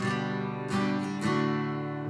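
An acoustic guitar strums a few chords in a relaxed rhythm, the open strings ringing through as the chords change.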